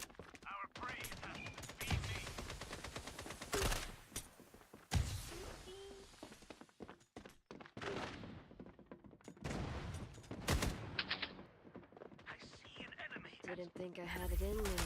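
Automated turrets fire in Fallout 76, loose bursts of gunfire rattling over game noise and footsteps, with a person talking throughout.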